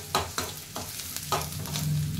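Boiled banana flower is being sautéed with mustard seeds, cumin and urad dal in a pan, giving a steady close sizzle broken by several scraping strokes of a spoon.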